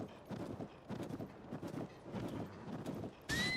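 Horse hooves clip-clop steadily in Zelda: Tears of the Kingdom as the horse is ridden along in wintry cold terrain, a rapid repeating patter at moderate level, ending in a sudden brighter game sound effect.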